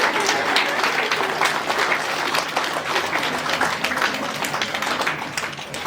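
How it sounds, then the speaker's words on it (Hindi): Audience applause at a nursing school graduation ceremony, sustained dense clapping from a large crowd filling the hall throughout, with faint voices underneath. "Please continue to give a big round of applause for them."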